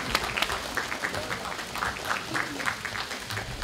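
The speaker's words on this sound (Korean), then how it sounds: "네, 큰 박수 부탁드리겠습니다." Crowd applause rises at a press conference launching the Korean drama Ya-wang, a moderately loud patter of many hands that continues steadily, with faint voices mixed underneath.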